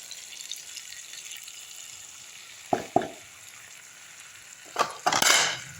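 Chilli powder stirred into onions and tomatoes in a hot pan, giving a soft steady sizzle with a few sharp scraping and stirring clatters near the end.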